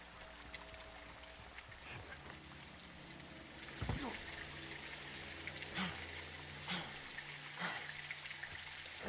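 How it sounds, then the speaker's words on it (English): Heavy rain in Call of Duty: Modern Warfare 2, a steady wash of downpour with scattered louder splashes and thuds, faint and continuous throughout. "It's raining fucking hard."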